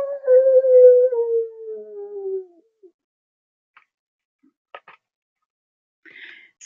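A puppy dog gives one long, mournful howl that slides downward over about two seconds, followed by a few faint, scattered sounds in near silence.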